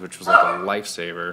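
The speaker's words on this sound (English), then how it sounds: "that's my dog in the background" A dog yips and whimpers in the background of a room where someone talks over it.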